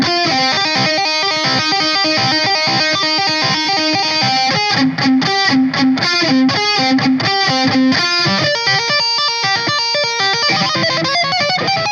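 A distorted electric guitar plays the lead part of a song at a slow tempo, a string of sustained, clearly separated notes with a thick effects-laden tone, loud and alone without talk.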